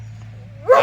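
A German Shepherd and Doberman mix dog gives a single sharp, close bark at the end, preceded by a low steady hum.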